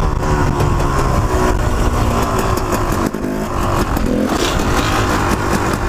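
A motorcycle, a supermoto, revs hard and accelerates into a wheelie, its engine roaring loud and close in a continuous high-pitched drone that holds steady with slight pitch shifts, no voices.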